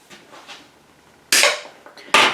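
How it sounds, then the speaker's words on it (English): A plastic screw end being cut off with a tool, two sharp loud snapping cracks near the end after some quieter handling scrapes. "we are going to cut it off about 1/4 inch to 3/8 of an inch from the end"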